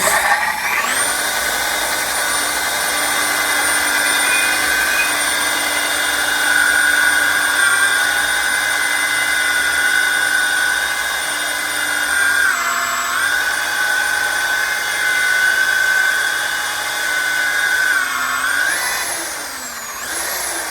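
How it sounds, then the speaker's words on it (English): A Tri Tool STS-8 pipe machine with a Durabit facing bit faces an 8-inch stainless pipe, a loud steady whining grind with tonal harmonics that holds throughout, briefly dipping in pitch twice, with no voices. "we're gonna face this piece of stainless tubing up square"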